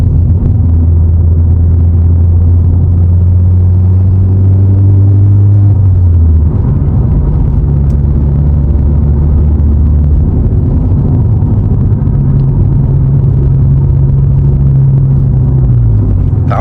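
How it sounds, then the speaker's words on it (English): VW Polo 1.2 TSI (66 kW) engine pulling uphill on a mountain road, a steady loud low drone with pitch shifting as revs change, dropping after about six seconds then rising again, with no talking. "hopefully you guys can hear how the car sounds"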